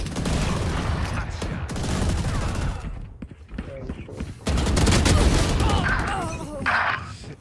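Rapid rifle fire from a Vandal in Valorant, loud and dense, comes in sustained bursts with a short lull mid-way, mixed with game effects and voices talking over it.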